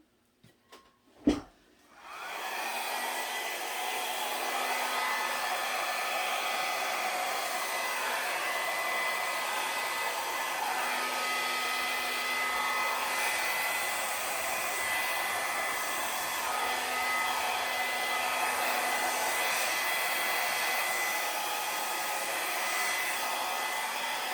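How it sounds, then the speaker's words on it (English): A small hair dryer blows air over wet acrylic paint in a pour painting, switching on after a few clicks and then running as a steady, close, continuous whoosh that holds for over twenty seconds. "little hair dryer."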